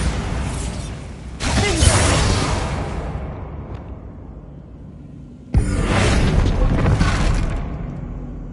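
A Bombarda explosion spell from Hogwarts Legacy gives two loud blasts a few seconds apart. Each one hits hard and breaks into a rumbling, crackling burst of debris that slowly fades.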